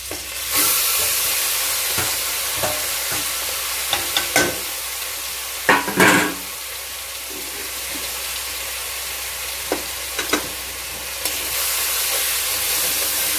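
Chopped mustard greens dropped into a pan with garlic, ginger and chilli, giving a loud continuous sizzle and steamy hiss, with occasional sharp scrapes and knocks as they are stirred close by.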